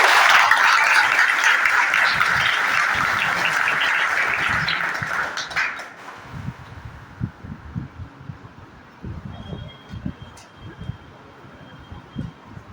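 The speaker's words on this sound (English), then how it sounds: "give a big round of applause for all the technicians" Audience applause for the technicians at an entrepreneurship development event, a dense burst of clapping that fades out after about six seconds into low room noise and scattered knocks.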